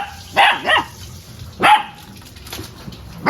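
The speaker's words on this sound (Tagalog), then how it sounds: "Ito mga aso." Several dogs, pets kept at a rural Filipino home, let out a few sharp barks in two quick bursts, then a single bark after a pause, fairly near and loud, with no talking over them.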